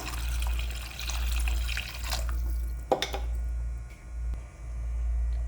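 About 400 ml of water trickles and splashes faintly into a pot for rasam over a steady low hum, with a few clinks and drips.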